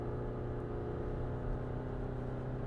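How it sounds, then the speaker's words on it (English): A 2021 Toyota Sienna XSE minivan engine hums with a steady low drone while accelerating, road and cabin noise constant throughout, no clear rise in pitch, heard from inside the vehicle. "Now we're going to hear it accelerate."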